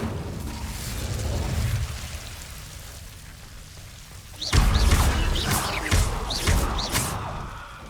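A burst of fire bursts out in Hogwarts Legacy as the Incendio spell burns Devil's Snare, a sudden loud whoosh after quieter ambience, followed by several crackling flares and pops.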